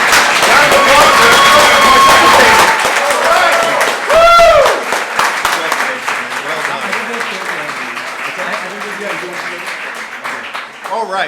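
Hackathon audience gives a loud round of applause that swells and then thins out, with a voice carrying briefly over the clapping partway through.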